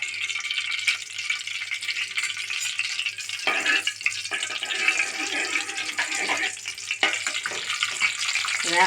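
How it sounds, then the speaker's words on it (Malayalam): Two cardamom pods, a small piece of cinnamon and three cloves fry in one and a half tablespoons of hot coconut oil, giving a steady, close sizzle that runs throughout with brief stirring scrapes and no voices. "അതിൽ ഒന്നര ടേബിൾ സ്പൂൺ വെളിച്ചെണ്ണ വീത്തിൻ്റെ അതിൽ രണ്ട് ഏലക്കായ ഒരു ചെറിയ പട്ട മൂന്ന് ഗ്രാമ്പൂ ഇടാം"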